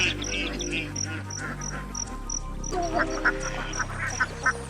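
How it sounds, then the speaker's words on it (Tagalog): Farm ducks quack in short, repeated calls close by, mixed with a steady chirping of insects in the background and occasional louder quacks toward the end. "Ah, nakakatuwa yung mga itik natin."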